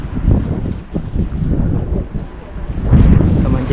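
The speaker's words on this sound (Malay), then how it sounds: "Cuaca berangin, mendung kuat ya." Strong wind buffeting a microphone on a cloudy, gusty day out fishing at Ulee Lheue in Banda Aceh, a loud continuous rumbling roar that surges near the end, with no voices.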